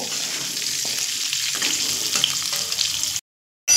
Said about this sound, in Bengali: সেই শাকের ডাঁটা দিয়ে আবারও লো টু মিডিয়াম করে 2 থেকে 3 মিনিট এই আলু আর পাঁচফোড়নের সঙ্গে একটু নাড়াচাড়া করে ভেজে নেব